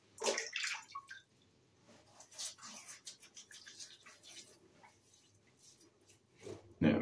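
Water splashes and drips as a shaving brush is wetted before lathering, with brief bursts of running water near the start and end and quieter trickling in between.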